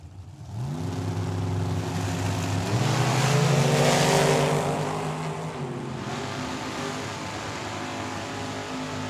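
A dragster and a Camaro race down a drag strip at Tucson Dragway. Loud engine roar rises as they launch, revs climb through the gears, and the sound then fades into a sustained distant drone.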